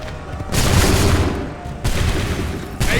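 Musket volley gunfire in the Assassin's Creed 3 video game: two loud, crackling massed volleys, each a dense burst of many shots rolling into a sustained roar, with a third starting at the end.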